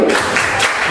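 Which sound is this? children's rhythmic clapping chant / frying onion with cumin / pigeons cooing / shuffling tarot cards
children's rhythmic clapping chant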